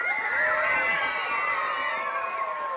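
A lively comedy magic show audience cheers and shouts continuously, with high excited voices whooping over a dense wall of noise for the whole stretch.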